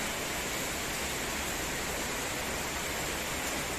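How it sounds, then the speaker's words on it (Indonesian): Dense, even hiss of heavy rain falling in Surabaya, a constant wash of noise at steady loudness with no clear gaps or voices. "Sudah mulai berkurang hujannya."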